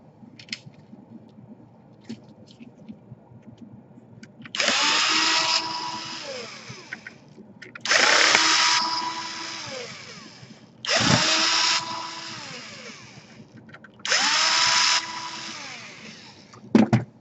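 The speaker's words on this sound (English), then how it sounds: "And now you want to unscrew the 4 screws here." Four screws being driven out of an Asus X54C laptop with a power screwdriver: four separate whirring bursts of about a second and a half each, spaced by short pauses, close and fairly loud over a quiet background.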